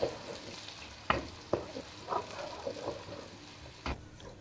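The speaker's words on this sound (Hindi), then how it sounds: "प्याजों को लाइट ब्राउन कलर आने तक इनको हम लगातार फ्राई कर लेंगे" Onions frying in hot oil, a soft continuous sizzle broken by a few sharp scrapes and clacks as a spoon stirs the pan, fairly quiet and close with no talking.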